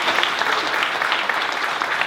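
A seated audience at a literary festival discussion with MP Shashi Tharoor breaks into even, sustained applause, a close, continuous patter of many hands with no pauses.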